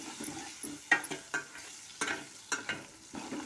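A spice mixture for tomato curry is stirred around a pan, producing quiet rhythmic scraping strokes and light taps over a faint sizzle.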